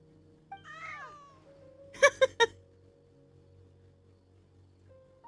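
Cats meowing in Genshin Impact: a drawn-out wavering meow, then three short sharp meows in quick succession, clear against a quiet game background.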